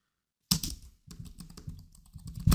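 Fast typing on a computer keyboard, close and clear, in two bursts of rapid key clicks separated by a short pause, with a heavier thump at the end.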